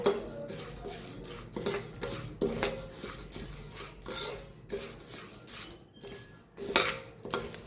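Barnyard millet (moraiyo) being dry-roasted and stirred in a pan over a gas flame, with repeated scraping clinks of a metal spoon against the pan at close range and no talk.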